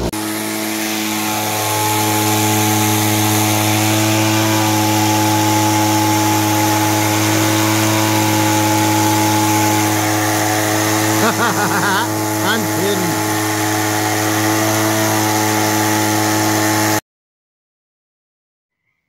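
A cheap Harbor Freight orbital sander rigged as a homemade vibration rock tumbler drones steadily and loudly for about seventeen seconds, then cuts off abruptly.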